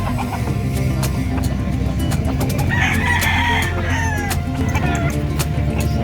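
Chickens at a livestock market in Malasiqui, with a rooster crowing mid-way over steady loud clucking, crowd murmur and busy market din throughout.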